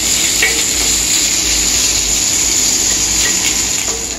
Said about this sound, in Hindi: मैं इसके साथ प्याज भी डाल दे रही हूँ, बहुत छींटा मार रहा है।